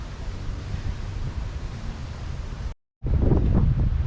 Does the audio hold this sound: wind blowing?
yes